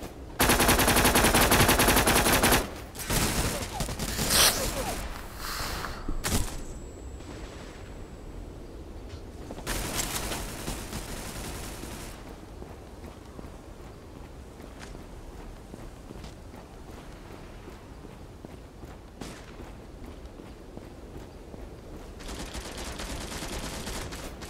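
Bursts of automatic gunfire from the Turkish online shooter Zula, loud rapid volleys at the start and again around the ten-second mark, then quieter scattered shots and footsteps trailing off.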